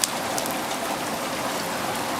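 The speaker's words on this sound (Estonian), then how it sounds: "Ja nüüd on mul tunne, et ei saja mitte vihma, vaid korralikku rahet" Steady heavy rain with a bit of hail falling outdoors, a dense continuous hiss of drops hitting surfaces, loud and even throughout with no voices.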